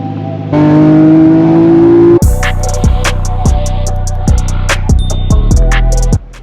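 A Nissan R34 GTR engine runs loudly with its pitch climbing for about two seconds. A regular thumping beat with crisp high ticks then takes over and carries on steadily to the end.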